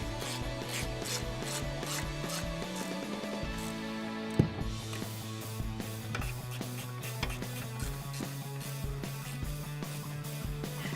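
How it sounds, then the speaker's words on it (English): Wrench tightening nuts on the upper front suspension of a Chevrolet Silverado or GMC Sierra during a front leveling kit install, a faint ratcheting and metallic clicking running steadily under a humming background, with one sharp clank midway. "we're going to tighten these nuts up using an 18mm wrench"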